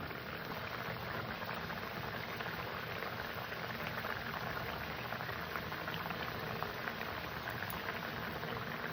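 A tilapia fish curry with knol-khol and potato boils in a pot, a dense, continuous bubbling and gurgling that stays close and even throughout with no voices.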